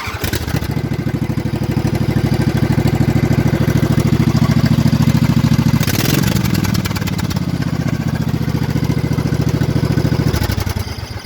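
A straight-piped Craftsman riding lawn mower engine fires up and settles into a loud, steady, rapid-pulsing run, with a brief stumble midway before it carries on strongly.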